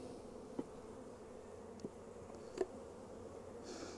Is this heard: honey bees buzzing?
yes